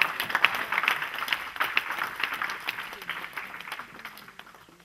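Church congregation applauding during a sermon, a burst of many hands clapping that swells quickly then gradually fades over several seconds, moderately distant in a reverberant room.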